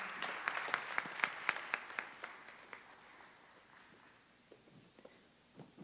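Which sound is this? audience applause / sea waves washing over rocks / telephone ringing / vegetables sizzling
audience applause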